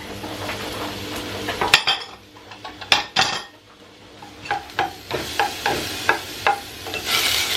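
Onions going into a pan for a homemade pasta bake, with clanks and scrapes of a utensil against the pan over a rising sizzle, irregular knocks throughout and no voices.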